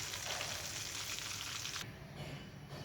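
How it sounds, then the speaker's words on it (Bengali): A rohu fish head fries in hot oil in a pan, a steady, fairly quiet sizzling hiss that drops slightly in intensity partway through, with no voices. "মাছের মাথাটা ভাজা হয়ে গেছে"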